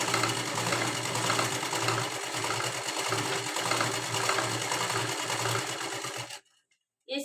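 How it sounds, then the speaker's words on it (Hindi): A sewing machine stitches a 1.5-inch fabric strip onto a blouse in a continuous rapid whir for several seconds, then stops abruptly before a short restart. "उसको यहाँ पे रखना है और आधा इंच छोड़ के सिलाई लगानी है।"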